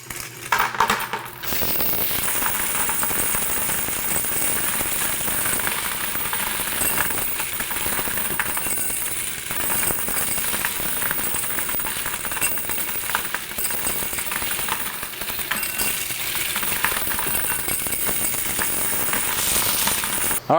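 A Kleen-rite car wash coin machine runs continuously, close and loud, with a steady mechanical whir and a constant rapid clatter of coins dropping through it.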